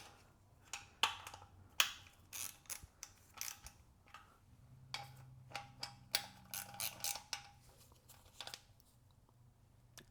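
Ratchet wrench clicking in quick bursts while snugging bolts on a BMW E36 M3 engine bay bracket, close and fairly quiet, with sharp intermittent transients and pauses.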